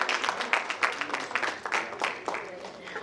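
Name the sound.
audience applause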